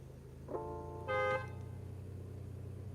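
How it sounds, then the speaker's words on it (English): A 2021 Porsche Panamera sounds its horn in two short blasts, a brief tentative tap followed by a longer, louder, higher-pitched honk, heard close up over a steady low idle hum. "Now here comes the horn."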